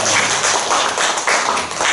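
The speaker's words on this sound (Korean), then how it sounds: "박수로 환영해 주시기" A church congregation claps continuously to welcome a deacon during a worship service, dense even applause at steady loudness throughout, with no speech over it.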